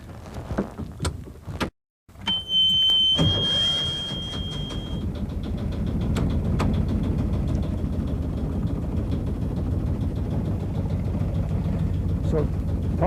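A sailboat's engine at the dock starts with a brief high whine, then settles into a steady low rumbling drone that continues under nearby voices.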